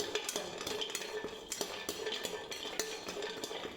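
A spoon scraping and clinking in a pan as whole spices for Nashik-style black masala dry-roast, steady rhythmic stirring taps up close, quiet with no talk.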